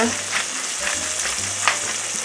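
Slices of green tomato fry in a pan for a Southern breakfast, giving a steady, close sizzle and crackle with a few soft stirring or shifting sounds.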